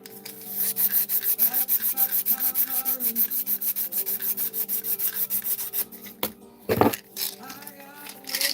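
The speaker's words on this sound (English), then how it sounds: "All right, I have pretty much everything here rough sanded." A wooden fishing lure being rough sanded by hand, rapid rhythmic back-and-forth rasping strokes, loud and close, ending with a few scattered knocks and handling sounds.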